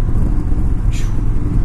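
Yamaha V-Star 1300 Tourer motorcycle on a test ride, its engine a loud, close, steady low rumble with road noise and a brief hiss of wind near the middle.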